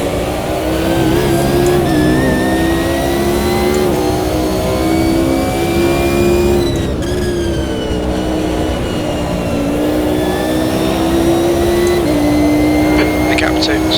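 A McLaren GT1 race car's engine in Automobilista 2 at Spa, a steady loud drone that rises and falls with revs and shifts, heard from the cockpit under continuous commentary.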